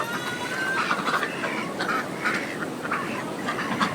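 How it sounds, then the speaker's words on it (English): Several ducks of one breed quack in short repeated bursts outdoors, moderately close, over a continuous background hiss with no talking. "here's my duckies out there"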